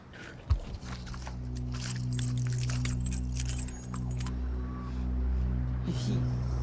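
Keys on a keychain jangle in a rattling, metallic burst, in a scene from an Ivorian TV drama series, heard near and fairly clear over a steady low hum with faint voices in the background.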